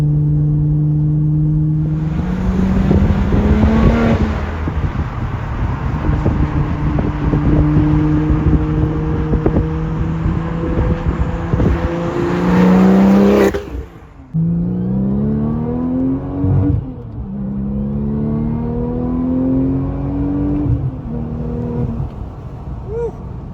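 Heard from inside a Porsche 996 Turbo, the engine accelerates hard, its roar climbing steeply in pitch, briefly dropping at a gear change, then climbing again, loud throughout.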